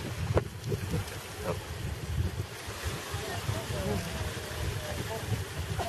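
Strong gusty wind buffeting the microphone in a low rumble at the Dead Sea shore, with faint water and surf sounds in the background and occasional faint voices.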